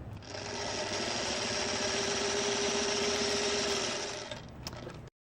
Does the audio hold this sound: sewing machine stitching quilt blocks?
yes